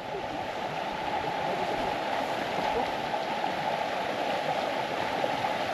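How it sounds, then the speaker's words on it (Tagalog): A muddy, rain-swollen river flows nearby in a hilly area of Kazakhstan, giving a steady, full rushing wash that stays even and close throughout with no pauses. "Yun yung ilog, oh."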